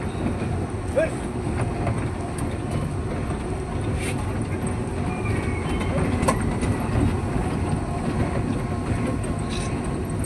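A toy train at an outing runs steadily throughout, its continuous rolling rumble with faint rhythmic clatter and occasional squeaks staying moderately loud, with no speech over it.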